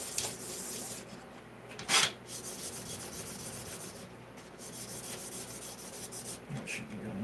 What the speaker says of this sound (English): rub this up and down on some sandpaper